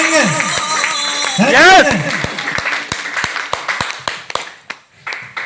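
A crowd at a network marketing event claps after a shouted cheer, a burst of scattered, sharp hand claps that thins into separate claps, close and loud, with a raised voice at the start.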